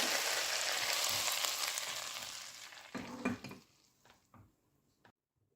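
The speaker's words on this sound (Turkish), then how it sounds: "Hazırladığımız çorbanın üzerine kızdırdığımız tereyağı ve naneyi ekleyip servis yapalım." Hot butter fried with mint hisses loudly as it is poured over soup, then the sizzle fades, broken by a few clinks and scrapes of a pan before it cuts to quiet.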